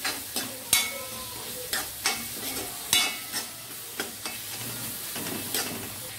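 Salted brinjal gravy masala for a stuffed Chettinad brinjal curry is stirred in a pan, a spatula scraping in a quick repeated rhythm over a soft, continuous sizzle, close up.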